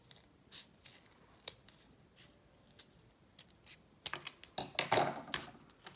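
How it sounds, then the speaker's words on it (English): Scissors snip through paper, cutting out a petal shape for a pop-up card: irregular close crisp snips with short pauses, busier and denser near the end. "I'm going to take scissors and cut this shape out."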